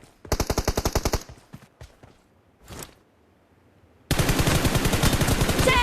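Gunfire in PUBG Mobile: a fast automatic burst of about a dozen sharp shots, a pause with a few stray sounds, then another long, loud automatic burst close by.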